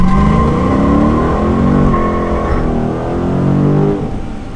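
A Dodge Scat Pack 392 launches hard from a dead stop, its V8 roaring loud and close with rising harmonics as revs climb, wheels spinning, holding a steady heavy drone for about four seconds before easing off.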